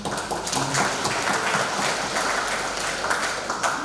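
Steady applause from a church congregation, dense and continuous clapping filling the room with no pauses.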